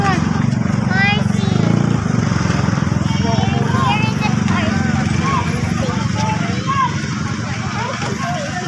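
Horses at Tagaytay, their hooves clip-clopping steadily through a busy outdoor scene, mixed with a constant low engine-like rumble, scattered chirps and people talking nearby throughout.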